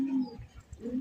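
Black Mosaldom pigeons give low, soft cooing notes, two short coos framing a quieter pause, close and fairly faint.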